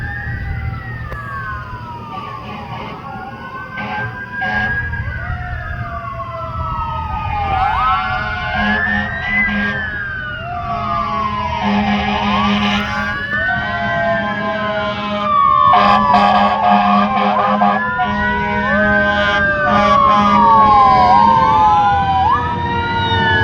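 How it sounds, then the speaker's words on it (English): Fire rescue truck sirens with a new Feniex light bar and emergency lights wail loudly and continuously, overlapping rising and falling tones cycling for over twenty seconds with a steady engine rumble beneath. "Get them sirens a-blaring."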